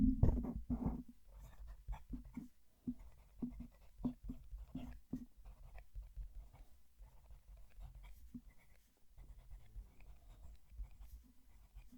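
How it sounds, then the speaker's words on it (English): A fountain pen writes a sentence on paper, recorded close up as soft scratchy strokes in irregular bursts with short pauses between words, quiet and alone. "we'll move the mic and write a sentence"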